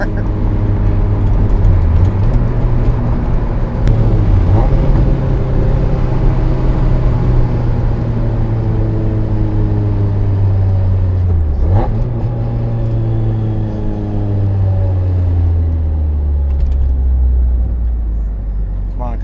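Supercharged Mazda Miata exhaust echoing in a tunnel, a loud, continuous drone that rises and dips through gear changes, with a sharp lift near the end.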